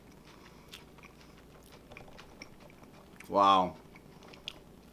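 A single loud, close crunch as someone bites into avocado toast on crunchy bread, followed by faint chewing, with a brief exclamation just before.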